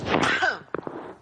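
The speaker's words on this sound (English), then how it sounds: "Oh, sorry, I just sneezed." One sharp human sneeze, a close, loud burst with a rising vocal sweep, followed by a few small breaths and thumps as it dies away.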